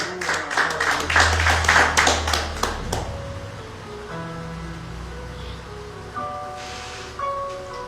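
A church congregation at a missions service applauds together, a dense burst of clapping for about three seconds that then fades, followed by sustained music under lighter background noise.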